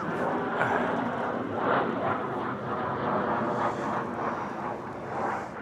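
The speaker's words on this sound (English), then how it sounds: "we've got a fighter jet just going over his head" A fighter jet passes overhead above a campsite, a broad, steady roar with wind-like rush that swells and fades slightly across several seconds, fairly loud and continuous with no talk.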